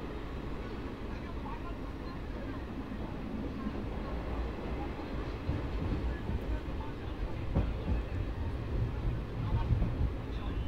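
Paharia Express train pulling out of Katwa Junction at night, a low continuous rumble and rattle of wheels and carriages building gradually in loudness, heard from on board with some faint background voices.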